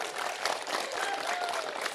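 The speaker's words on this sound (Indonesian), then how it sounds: "Beri tepuk tangan dulu yang meriah untuk Pak Anies" A crowd at an event for Pak Anies after a presidential debate gives lively applause, a busy patter of many hands clapping that carries steadily, a little distant in the room.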